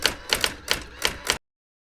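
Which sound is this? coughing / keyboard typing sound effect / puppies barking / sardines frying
keyboard typing sound effect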